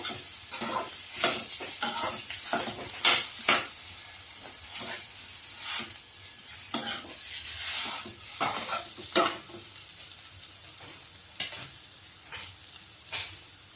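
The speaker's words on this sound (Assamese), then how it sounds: "আলুখিনি ভালকৈ পিঁয়াজৰ লগত মিলাই ল'ব এইদৰে।" Potatoes stirred together with browned onions in a frying pan for potato chops, a steady sizzle broken by repeated scraping stirs and light clinks of the utensil against the pan, close and continuous with no talking.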